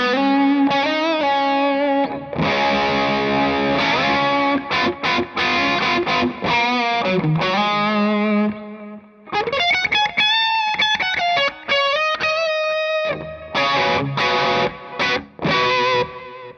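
Electric guitar played through an amp with effects in the effects loop after the reverb, chords and sustained notes with distortion and modulation, a few brief pauses between phrases, loud and close.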